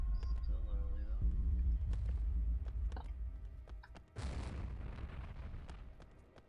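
Rifle gunfire in the Star Trek Deep Space Nine game, a dense stretch of rumbling booms and sharp bursts that continues throughout, with a louder blast near the end, over a low steady rumble and a brief tonal voice.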